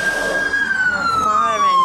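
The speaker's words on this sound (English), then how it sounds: "Fire engines." A fire engine siren on a street in Farnborough, Kent, loud and near, a long tone sweeping gradually downward over traffic noise, with a voice faintly audible underneath.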